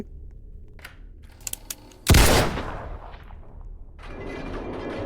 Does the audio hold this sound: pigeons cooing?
no